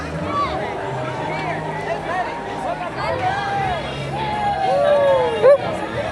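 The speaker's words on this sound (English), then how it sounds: "this is definitely the parade crowd" A dense parade crowd packs the walkway toward the castle at Disney's Christmas party, a loud close babble of many overlapping voices and chatter continuing throughout, with a nearby speaker talking over it.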